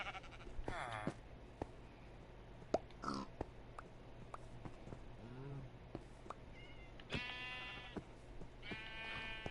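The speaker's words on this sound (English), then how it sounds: "I need that sheep out of here." Minecraft sheep in a video game give several short, nasal bleats in bursts over faint background game noise, with stacked wavering tones repeating near the start and end.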